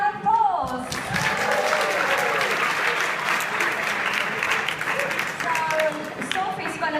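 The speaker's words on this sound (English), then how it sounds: "Please give Sophie a round of applause." A live audience bursts into dense, sustained applause at an outdoor film tour screening, loud and full, after a brief voice at the start, then slowly thinning toward the end.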